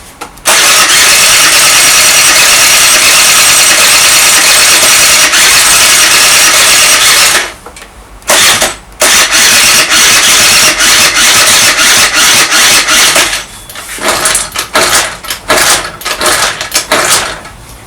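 A Honda Dio scooter engine with no spark cranks loudly and keeps trying to catch. There are two short pauses, then stuttering, uneven bursts toward the end as it struggles to start.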